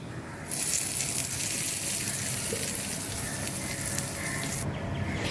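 Hot oil tempering of mustard seeds and urad dal for banana stem chutney sizzles loudly and steadily, starting abruptly and cutting off near the end, close by with no talk.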